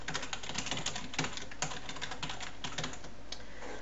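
Rapid, continuous keystrokes on a computer keyboard as C++ code is entered, close and clear, a dense patter of clicks with small pauses and no voices.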